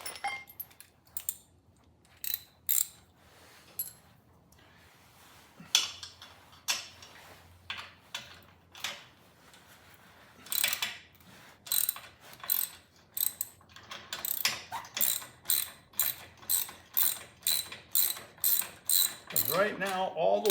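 Ratchet wrench backing out a bolt on a Cyclone rake, a run of sharp metallic clicks in uneven bursts that grow into a steady rapid rhythm near the end, close and clear with no talking.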